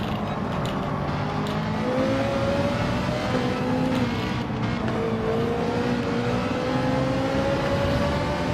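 Racing car engines drone and rev in Gran Turismo, with a Toyota Supra and a Ferrari in the pack; a steady, loud mechanical roar with rising engine pitches from several cars running close together.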